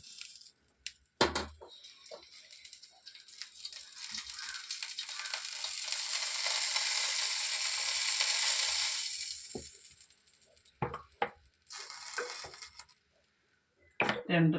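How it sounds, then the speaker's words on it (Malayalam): A spoonful of coconut oil hits a heating wok, and a broad, steady hiss swells for several seconds before fading, with scattered clinks and knocks from the pan around it. "ഒരു സ്പൂൺ വെളിച്ചെണ്ണ ഒഴിച്ചു."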